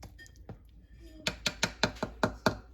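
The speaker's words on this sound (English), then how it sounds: "lid back on, let me move this out of the way" Crockpot lid set back down on a slow cooker of cinnamon applesauce, followed by a quick series of about eight sharp knocks and clatters of crockery being moved on a counter, close and clear after a few softer handling sounds.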